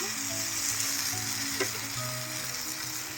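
Food for a paneer gravy fries in a hot pan, a close, steady sizzle and crackle with a brief stirring scrape midway and no voices.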